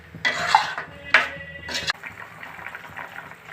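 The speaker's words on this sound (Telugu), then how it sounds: "ఇది ఇప్పుడు వాటర్ వేసేస్తున్నాం సరిపడా" Water is poured into a pan of cauliflower curry with raw prawns in a few short bursts of splashing and gurgling, close up, followed by quieter clinks and stirring.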